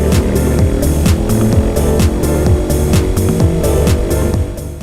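Racing karts at a GX-UK race at Fulbeck, a loud continuous engine drone with shifting, rising and falling pitch as karts run closely together on the track.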